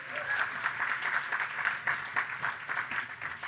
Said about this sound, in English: So a round of applause for Science Literacy Week.